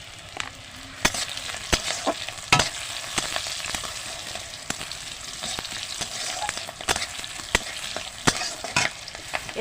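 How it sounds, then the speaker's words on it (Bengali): Whole spices and panch phoron fry in hot oil for a dish of koi fish freshly caught from a pond, giving a steady close sizzle. Irregular sharp spoon scrapes and clacks against the pan cut through it, with no voices. "সমস্ত মশলা আমার লাল লাল করে ভাজা হয়ে গেছে এবার দিয়ে দিচ্ছি পাঁচ ফোড়ন"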